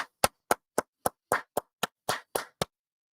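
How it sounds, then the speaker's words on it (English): Hands clap about ten times in a quick, even rhythm. Each clap is sharp, close and separated by brief silence. "Let's clap it up here for a second."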